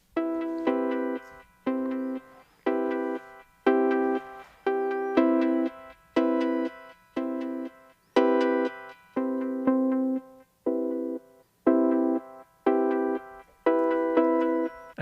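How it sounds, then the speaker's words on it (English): A Roland MC-303 groovebox plays a rhythm pattern with its filter cutoff lowered, giving evenly spaced, repeating tonal pulses, somewhat muted and steady throughout, with no talking. "I lowered the filter on the MC-303 a little bit."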